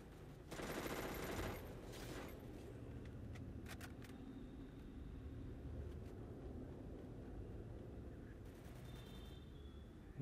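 Gunfire in the video game Free Fire: rapid bursts of automatic fire crackle at the start, followed by scattered sharp shots over a steady engine-like drone, fairly faint and distant throughout.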